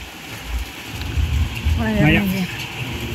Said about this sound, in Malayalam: മഴ അങ്ങോട്ട് തുടങ്ങി